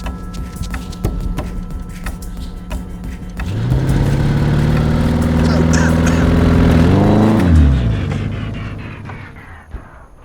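Several high-performance SUVs and cars, including a 2026 Rivian R1S Quad, Lucid, Porsche, Audi and Range Rover SV, launch side by side in a drag race, engines swelling into a loud rising roar that builds then shifts and fades, with voices over it.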